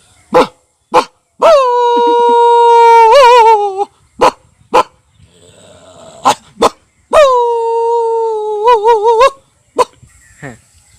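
A person imitates a big dog, with sharp barks and two long drawn-out howling whines, loud and close, separated by brief pauses.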